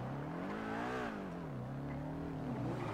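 A car engine in GTA revs and drones close by, its pitch rising, falling and climbing again as it drives, with no talking over it.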